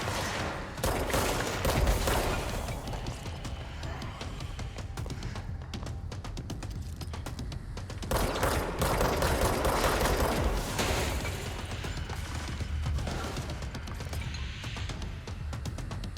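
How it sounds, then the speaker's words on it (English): Sustained bursts of gunfire from the video game Control fill the stretch, dense and continuous with sharper flurries near the start and middle, steady and loud throughout with no talking. "Who's shooting at us?"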